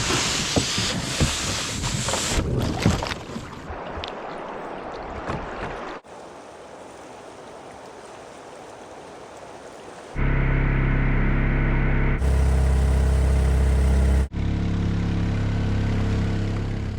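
Mokai jet-powered kayak engine in Alaska: rushing broadband noise at first, then a loud, steady, harmonic engine drone holds through the final seven seconds, with no talking.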